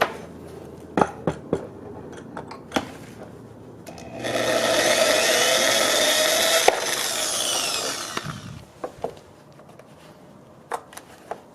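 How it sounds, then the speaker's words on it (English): Drill boring holes to rivet an air dam onto brackets for a DIY splitter, a steady whining burst of about four seconds, close and loud, framed by sharp clicks and taps before and after. "I'll drill the hole and then apply the rivet."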